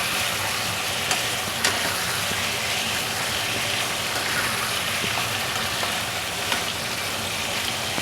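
Food is stirred and mixed in a hot pan under a steady, loud, dense sizzle that barely changes, with only a few faint clicks of a utensil now and then and no speech.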